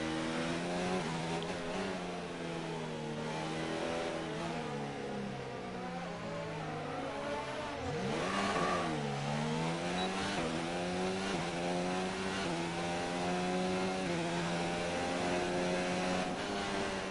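F1 racing car engine in a racing video game, a buzzing high-revving whine climbing through gear after gear, dipping sharply around one downshift before winding back up, steady and moderately loud throughout.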